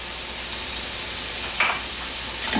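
Salted pigtail, scallions, pimento pepper and small onion sizzle steadily in a pot for a one-pot spinach rice, a constant frying hiss with a couple of brief stirring scrapes near the end.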